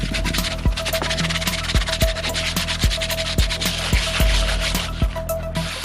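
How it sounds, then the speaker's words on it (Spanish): Rhythmic abrasive rubbing of sandpaper worked back and forth over a Christmas tree base, steady strokes with repeated soft knocks, close and fairly loud, no voices. "Vamos a lijarlo un poco."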